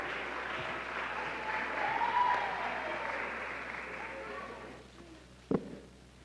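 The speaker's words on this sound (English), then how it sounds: "Please give Uthando a warm round of applause." An audience at the KZN Kwande Festival applauding as Uthando Nyameni is welcomed on stage, a sustained round of clapping that swells and then fades, with a voice heard amid it.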